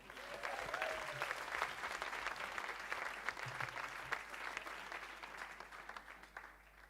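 A festival crowd at a song contest claps steadily and warmly for several seconds, a broad sustained roar of applause that slowly thins toward the end, with no voices standing out.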